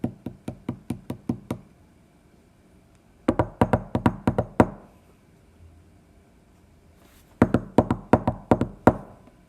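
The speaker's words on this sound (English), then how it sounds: "I am going to knock on this door" Knuckles rap on a wooden door in three separate bursts of about six to eight quick, crisp knocks each, close and fairly loud, with quiet pauses between them.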